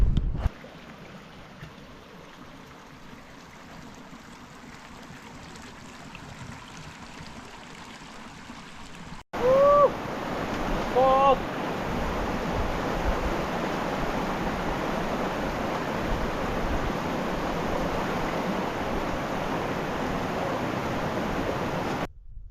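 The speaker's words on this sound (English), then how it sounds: "This is Holcomb Creek right here." Holcomb Creek flowing steadily along the Pacific Crest Trail, a close, continuous rush of water that grows louder partway through, with a few faint bird chirps.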